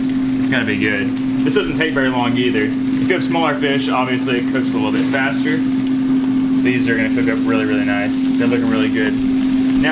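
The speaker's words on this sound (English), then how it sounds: "so if you hear this kind of annoying sound in the background, that is our air fryer" An air fryer heating fish gives off a steady, droning electrical hum that runs unbroken beneath continuous close-up talk throughout.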